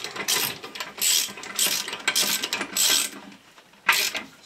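A ratchet tightens a nut on a Porsche 944 Turbo limited-slip differential while the rear is held against it. Several close, crisp bursts of ratcheting clicks come with short pauses between them, and no one speaks.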